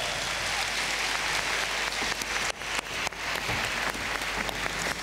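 An audience claps continuously to welcome a guest onto the stage at a folk song concert, a dense, even patter of many hands with slight swells.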